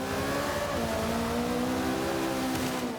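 Vintage Brabham race car on the Nürburgring in Forza 5, engine droning steadily close up at high revs with a smooth, slightly wavering pitch and no talk.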